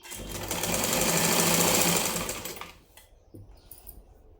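A sewing machine stitches folded side cloth on a lined blouse, a rapid mechanical whirr that rises, holds steady for a couple of seconds, then slows and stops, followed by a few faint handling clicks.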